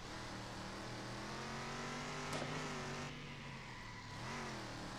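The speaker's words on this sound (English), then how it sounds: "stock car racing in Circuit Superstars" Stock car engines roar steadily on an oval in the racing game Circuit Superstars, a continuous close drone with pitch climbing and dipping as the cars lap, plus a brief sharp scrape partway through.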